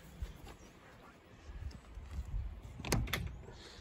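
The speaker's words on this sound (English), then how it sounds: "Door opens real nice." Door of a 1965 Serro Scotty vintage camper opening, with a few close latch clicks and a rattling creak near the end, no talk over it.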